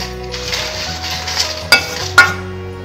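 Salt roasting in a hot kadai, with a soft sizzle and scraping stirs broken by two sharp, distinct pops or clinks near the end.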